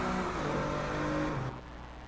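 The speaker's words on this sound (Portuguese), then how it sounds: "agora o 6 cilindros biturbo mostrando seu poder" BMW M4 with a 3.0-litre twin-turbo inline six, 24 valves, revving in the Drive Club racing game; a loud, steady engine drone with harmonic whine that drops off sharply after about a second and a half.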